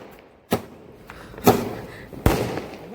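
Diwali firecrackers going off outdoors: three sharp, separate bangs about a second apart, each followed by a short rumbling tail.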